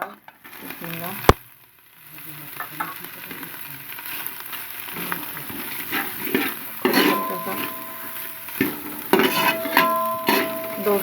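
Onions frying in oil with spices for mixed vegetable soup: a sharp clack, then a low steady sizzle with intermittent stirring scrapes and a voice speaking now and then.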